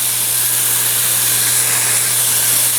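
Meat sears in a pan over medium-high heat, producing a loud, steady, unbroken hiss with a faint low hum beneath it.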